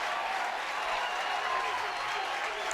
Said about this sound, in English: Crowd here at Foley Field rises to its feet.